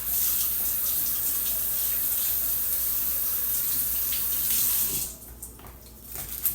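Water runs steadily from a kitchen tap as vegetables are rinsed, a close continuous splashing that drops off and thins out toward the end.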